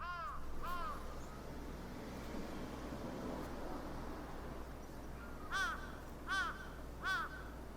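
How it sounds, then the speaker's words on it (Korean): Crows caw in the horror game Akai Onna: one harsh call near the start, then three evenly spaced caws toward the end, moderately loud over a low steady ambient hum, with no talking. "까마귀가 엄청 온다"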